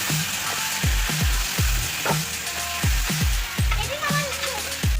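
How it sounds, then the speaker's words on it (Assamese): Chicken and spices fry loudly in a hot pan as water goes in, a steady sizzle broken by repeated bursts of crackling and spitting that rise and fall every half second or so. "অলপমান পানী দি কিনে ভালকৈ আৰু এবাৰ ফ্ৰাই কৰি ল'ম।"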